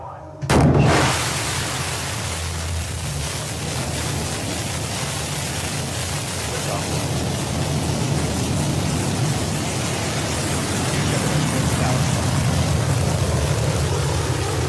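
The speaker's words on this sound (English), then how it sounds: "New Shepard has cleared the tower and is heading to space." Blue Origin New Shepard rocket engine ignition and launch on mission NS-28: after a sharp onset, a loud, dense broadband roar with deep rumble holds steady and swells slightly throughout, no voices.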